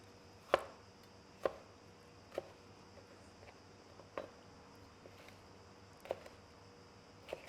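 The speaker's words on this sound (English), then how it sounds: "we start cubing them up into relatively small cubes" A kitchen knife cubes food into small pieces for stuffed peppers on a cutting board, sounding as sparse, sharp taps spread irregularly across several seconds, fairly faint over a quiet room hum.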